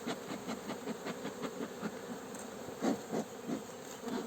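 A honey bee swarm buzzes around a small nucleus hive, a dense, continuous hum with pulsing swells and a few closer passes, heard alone without voices.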